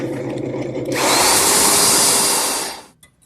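A power sander works a walnut bowl with coarse 60-grit paper, starting after a second of quieter shop sound, then holding a loud, steady whir before spinning down near the end.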